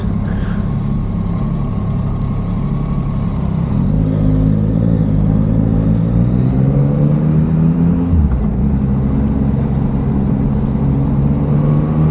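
A Yamaha MT-09 motorcycle with stock exhaust and catalytic converter drones loudly and steadily while riding, its engine note rising and shifting with throttle changes.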